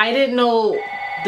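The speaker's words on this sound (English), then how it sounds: "Sorry, that was the phone." Telephone ringing, a loud, close electronic ringtone of clear repeating tones that cuts off, with someone speaking over it.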